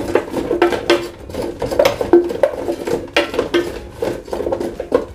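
Salted sausages, potatoes and onion stirred together in a bowl, a busy run of scraping and clinking strokes at close range with no talking.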